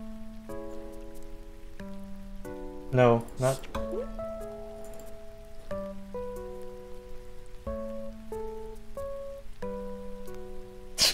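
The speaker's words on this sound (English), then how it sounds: "Animal Crossing with rain sounds." Soft, steady rain ambience from the Animal Crossing video game plays under gentle, sustained tonal game music, and a person speaks briefly.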